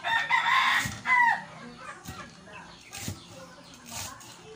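Chickens are fed vegetable stems and ipil-ipil leaves, giving close, busy clucking with a rooster-like call at the start and scattered squawks over low background noise.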